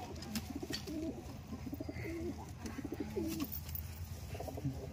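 Giribaz pigeons coo in soft, repeated throaty bursts, close but quiet, over a faint steady background hum with no speech.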